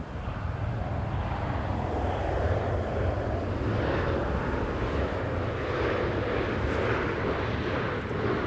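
An airliner landing at Schiphol Amsterdam Airport in windy conditions produces a loud, continuous engine roar with heavy low rumble, steady and close throughout.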